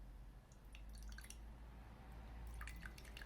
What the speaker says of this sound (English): So I add it slowly drop-wise, and then I just pour it in.